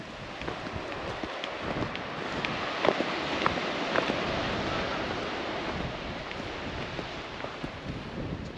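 Constant wind rushes and buffets outdoors at The Gap, Albany, on the Australian coast, roaring steadily throughout with occasional gusty bumps.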